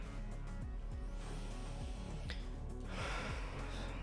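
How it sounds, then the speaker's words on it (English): A streamer feeling slow and tired lets out a breathy yawn, a soft drawn-out exhale rising over steady background music, with no talking. "I'm yawning like I'm tired"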